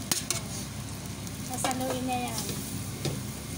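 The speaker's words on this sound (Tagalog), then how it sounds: "Tapos ihahalo na yung kanin." Rice being stirred into a pan of chicken adobo with onion, a steady scraping and faint sizzle running throughout, with a brief voice speaking over it.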